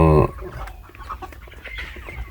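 Backyard chickens cluck repeatedly while they wait to be fed, starting with a loud squawk, then a scattered run of soft, close clucks and murmurs with no talk.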